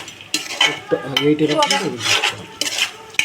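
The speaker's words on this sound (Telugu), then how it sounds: "మొత్తం అన్నీ ఒకసారి బాగా కలిపేసుకొని" A spoon scrapes and clatters in a pot as the chicken dum biryani ingredients and chopped coriander are mixed together, with close, irregular stirring strokes and a faint sizzle.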